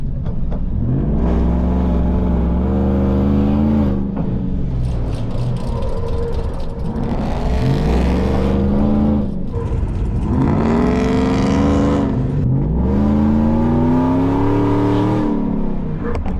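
A supercharged Chevrolet Silverado truck races, its engine repeatedly revving up through rising gear sweeps, loud and sustained, with short dips between each climbing pull.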